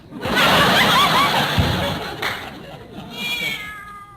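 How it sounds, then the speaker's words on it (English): A cat meows in an old radio comedy, with a drawn-out call near the start and a thinner, wavering meow near the end, set among voices and studio noise. "Come on over here. There's a good kitty."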